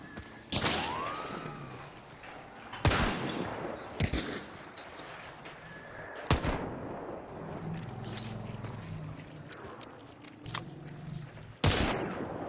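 Gunfire in a shooter video game with a sniper rifle, sounding as several sharp, loud shots spread across the stretch over continuous game ambience and scattered impacts.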